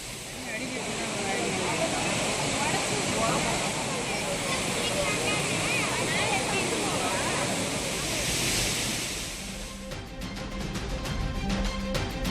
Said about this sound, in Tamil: மேற்கு தொடர்ச்சி மலைப்பகுதிகளில் மீண்டும் மழை பெய்து வருவதால் அருவிக்கு நீர்வரத்து அதிகரித்து வெள்ளப்பெருக்கு ஏற்பட்டுள்ளது.